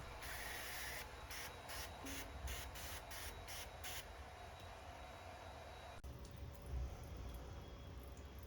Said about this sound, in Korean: 삽수가 흙에 밀착될 만큼 가볍게 분무하기로 했습니다.